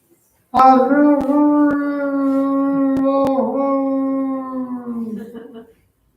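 A voice imitates a coyote howl, a single long, loud wavering cry held for several seconds before it trails off, with a few sharp clicks over it.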